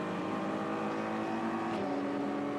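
A BMW GT race car from Paul Miller Racing, number 48, crosses the line at Virginia International Raceway during IMSA qualifying, its engine a loud, steady roar close by, holding a constant drone throughout.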